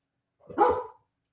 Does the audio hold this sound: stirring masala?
no